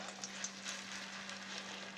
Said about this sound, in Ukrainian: Тестова картоплина вже смажиться.